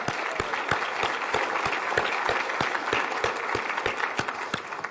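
Applause from a large summit audience of about 1,300 people: sustained, even clapping that fills the room, with sharp individual claps punctuating the steady wash.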